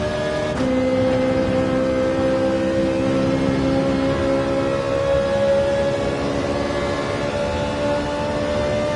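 A race car engine at full throttle in the video game Gran Turismo 7 on the Dragon Trail track drones at high, steady revs, a sustained buzzing whine that holds loud and constant without letting off.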